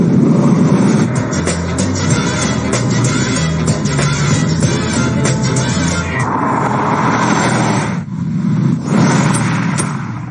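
An expensive large car doing about 148 mph sweeps past with a loud, sustained engine roar and rushing road and wind noise, swelling and then dropping away near the end.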